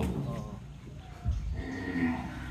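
Haryana cross cows on a farm low and shift nearby, giving a short moo over a background of murmuring voices and farmyard noise.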